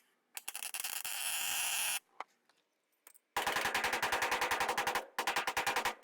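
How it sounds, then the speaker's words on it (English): A power drill bit is widening an existing hole in a fabrication shop, running in loud bursts with a short pause, then a longer steady run broken into rapid pulsing stutters near the end. "Now you don't want to drill all the way through because then you have a big old hole to plug."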